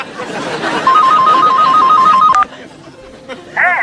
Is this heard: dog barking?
no